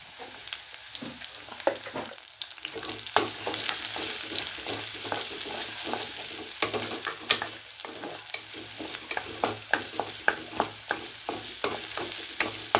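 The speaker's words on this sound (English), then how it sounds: "Add 2 onions sliced, big onion, and few small onions along with this." Sliced large and small onions fry in ghee in a pan for a sukuti keerai greens curry, giving a steady close sizzle broken by frequent sharp spoon clicks and scrapes as they are stirred, with no talking.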